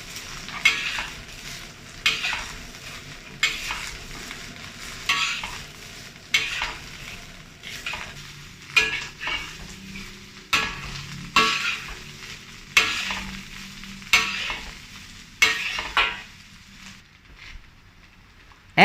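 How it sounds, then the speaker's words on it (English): Cabbage stir-fried on high heat hisses under a steady sizzle while a utensil scrapes and clatters against the pan in a regular rhythm of strokes, slowing toward the end. "Turn to high heat to stir fry."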